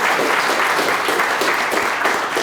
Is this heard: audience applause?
yes